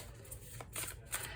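Tarot cards riffled and shuffled by hand in quick soft bursts, papery flutters and slaps close up, no voices over them.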